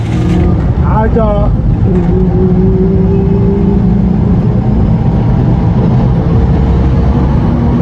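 Car engines idle and rumble in heavy, slow-moving Lagos traffic, a steady low drone throughout with a brief rising whine near the start; a voice is heard briefly early on.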